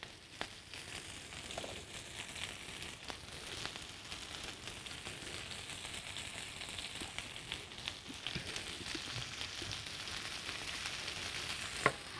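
Fresh spinach for a spinach quiche frying in a pan, a soft, steady sizzle with scattered small crackles and pops, fairly faint and close.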